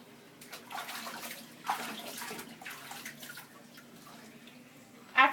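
Water splashing gently as a cat is hand-rinsed in a bathtub, steady soft sloshing and trickling throughout with a slightly louder splash near the end.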